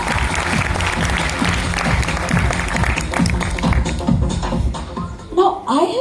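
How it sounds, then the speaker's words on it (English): Audience at a national award ceremony clapping together in a full round of applause, loud and sustained, with room noise and shuffling mixed in and tapering toward the end. "let's have a round of applause for all of you."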